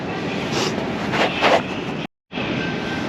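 Steady rumbling metro train noise at a station in China, with a broad hiss, a few louder surges, then a brief cut before the rumble resumes.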